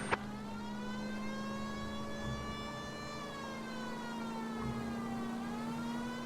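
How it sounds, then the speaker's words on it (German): A police car siren from the video game L.A. Noire wails in a steady, slowly shifting tone over a constant engine hum, moderately loud and without any talk. "Mach mal auch mal die Sirene an, die habe ich ganz vergessen."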